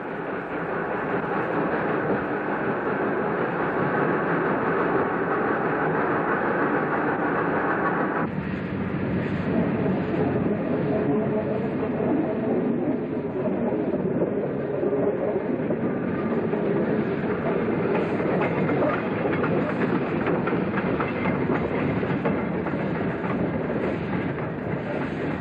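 A steam locomotive hauling an old inspection saloon pulls away from the old station at Ambarawa, a steady loud rumble with rhythmic clatter of wheels on track throughout, shifting in tone partway as the train gathers pace.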